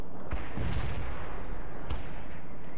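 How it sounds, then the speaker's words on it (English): Missile launch and explosions in the real-time strategy game World in Conflict, with heavy booming blasts and rumbling impacts in a dense, loud battle din. "Launching missile now."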